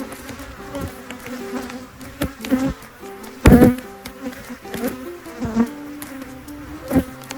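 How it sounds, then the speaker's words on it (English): Honey bees buzz steadily during an early-June hive inspection, a close, continuous drone with individual insects swelling louder as they pass near, plus a sharp knock or bump midway. "You can see these bees are very active"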